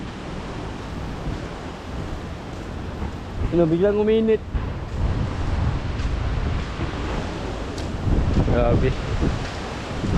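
Gusty wind sweeps across a seaside boat building site, a constant roaring rush that swells in waves, with someone briefly speaking over it.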